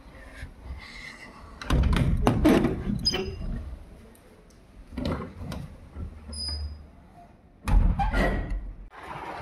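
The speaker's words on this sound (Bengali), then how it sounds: "তো চলো দরজাটা দিয়ে দিই," A household door is pushed shut, giving a few dull thuds and knocks of the door and its latch, with scattered handling bumps between them and no clear talk.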